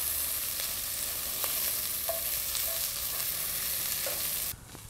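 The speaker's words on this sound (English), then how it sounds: "Now the onion is softened. We want to add the garlic." Garlic sizzling in an oil-filled pan with softened onion, a steady close frying hiss with occasional stirring clicks and pops, cutting out near the end.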